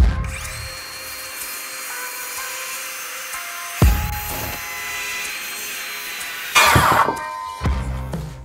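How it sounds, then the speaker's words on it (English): A power saw, either a miter saw or a circular saw, cutting through a wood board: a loud steady motor whine with sharp bursts as the blade bites and the cut ends, then spins down. "you can either use your miter saw or a circular saw"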